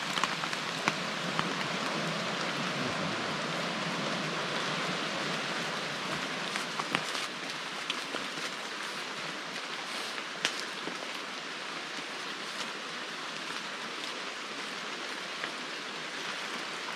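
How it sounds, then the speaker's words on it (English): Rain falls steadily over a forest campsite in a gorge, a dense, even patter with scattered individual drop hits, continuous and fairly close for the whole stretch. "put the rain gear back on"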